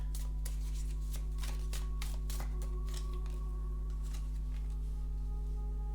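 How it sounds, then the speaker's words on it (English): Tarot cards shuffled by hand, a steady series of soft riffling slaps and flutters close up over a constant low hum. "I'm gonna shuffle the cards"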